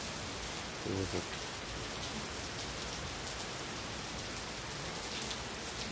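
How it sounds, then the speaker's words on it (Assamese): Steady rain pours outdoors near a rose garden, a dense even hiss of drops on surfaces that holds unbroken throughout with no voices. "আজি চব কি মজা বৰষুণ দিছে দেই"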